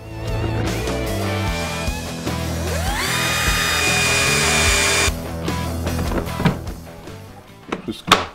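A cordless screwdriver drives screws while connecting Qbrick Studio QS Two and QS Pro units, its motor whirring and rising in pitch as a screw seats, then stopping, followed by a few light clicks and knocks.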